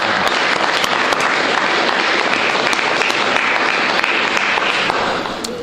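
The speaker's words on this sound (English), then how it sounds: "let's give a round of applause for all the students" An audience at a student program gives a sustained round of applause, dense steady clapping filling the hall close and loud, tapering slightly at the end.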